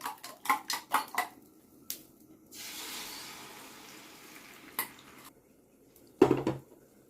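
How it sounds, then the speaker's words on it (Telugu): Beaten egg going onto a hot pan for a plain omelette: a run of quick metal clinks, then a soft sustained hiss of sizzling, followed by another close clatter of cookware. "ఎగ్ని బీట్ చేసాం కదండి దాన్ని ఇప్పుడు మనం పెనం మీద ఆమ్లెట్ వేస్తున్నాం"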